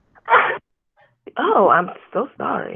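A sneeze bursts out during a math lesson on the quadratic formula, a short loud blast at the start, followed by a spoken apology and further talk.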